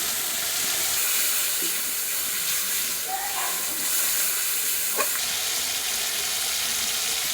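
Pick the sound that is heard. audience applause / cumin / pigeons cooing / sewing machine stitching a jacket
cumin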